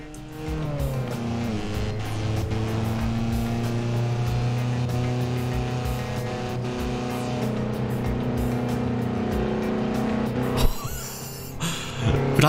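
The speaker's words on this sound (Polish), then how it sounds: "Próbujemy, silnik przerywa." A damaged Golf MK2 GTI engine in Forza Horizon 4 misfires under load, a close sustained engine drone that climbs in pitch, then breaks into rough bangs near the end.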